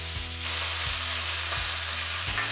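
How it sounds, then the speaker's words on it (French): Beef frying in hot oil in a sauté pan over high heat, a loud, steady sizzle that fills the whole clip with a low periodic hum beneath it. "Dans une sauteuse à feu vif, y mettre 2 cuillères à soupe d'huile. Laissez bien monter en température, y mettre le bœuf à revenir une bonne minute"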